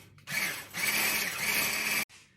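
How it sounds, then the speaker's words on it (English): A fast, steady whisk works olive oil into a carrot salad dressing to emulsify it, giving a continuous buzzing whir that starts abruptly and cuts off after about two seconds, with no talking. "we're now going to gradually add in, add in the olive oil while whisking"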